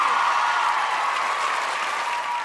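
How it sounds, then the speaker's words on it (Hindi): Audience applause at the 5th IPPA Awards show in Manchester, a steady, dense clapping from a large crowd that holds at full level throughout. "आइए महविश के लिए तालियां प्लीज"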